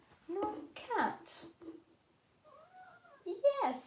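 A pet cat meows several times indoors, short close cries with a longer drawn-out call near the end, mixed with a voice.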